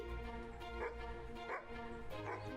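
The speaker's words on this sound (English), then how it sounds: "It's a tomcat, but almost sounds like a dog when it vocalizes." A tomcat in a point-and-click adventure game vocalizes with a dog-like, barking yowl, three short loud calls spaced about a second apart over a steady background hum.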